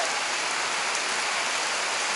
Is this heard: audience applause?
no